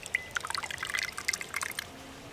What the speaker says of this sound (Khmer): ឯកកកងយើងបុករួចហើយឥឡូវយើងចាក់វាដាក់ចាន